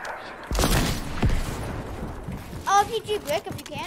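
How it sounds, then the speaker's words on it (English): A sniper rifle fires in the video game Fortnite, one sharp loud report followed by a rumbling tail, after which excited voices break in. "They're sniping from above."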